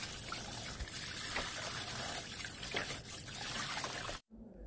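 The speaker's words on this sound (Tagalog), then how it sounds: "Ayan po yung unang banlaw ko sa ating chicharong bulaklak." Pork mesentery for chicharon bulaklak being rinsed by hand in a basin of water, a continuous close trickling and sloshing that cuts off abruptly just before the end.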